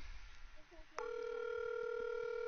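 A phone placing a call: after a second of low room noise, a steady electronic dial or ringback tone sounds, close and continuous to the end, with faint voices underneath before it starts.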